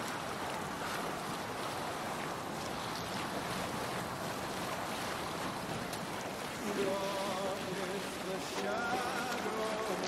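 Steady wind and rolling waves wash around a sailing longship in Assassin's Creed Valhalla, a dense continuous roar that swells slightly toward the end, with faint tonal game sounds layered in.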